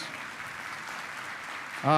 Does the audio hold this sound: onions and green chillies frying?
no